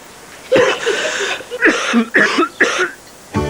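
Several loud, close coughs in a Polish TV advert for Flawamet cough medicine, a hacking burst followed by three sharp separate coughs and one more at the end, with no speech over them.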